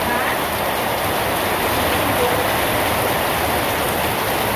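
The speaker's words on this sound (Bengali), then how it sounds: "বৃষ্টিও নামছিল এত বৃষ্টি কি সুন্দর আকাশ আসার এক ঘন্টার মধ্যে বৃষ্টি নেমে গেল" Heavy rain pours steadily throughout, a dense, even hiss close by with no break or change in intensity.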